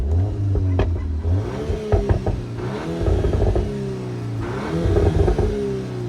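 A Volkswagen Golf 8 R engine in sport mode revs up and down repeatedly, loud and close, with small crackling exhaust pops between the revs.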